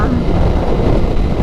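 Strong outdoor wind buffets a microphone on a chilly day beside a new 2023 GSXR 1000R motorcycle, producing a loud, continuous low rumble throughout.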